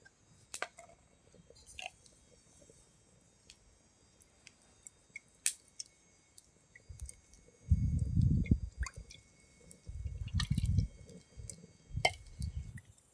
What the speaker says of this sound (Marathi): त्यामध्ये आपण मिठाचं पाणी टाकतो आहे